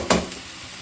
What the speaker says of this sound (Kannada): ಶುಂಠಿ ಬೆಳ್ಳುಳ್ಳಿ ಪೇಸ್ಟ್ ಹಾಕ್ಕೊಳ್ಳೋಣ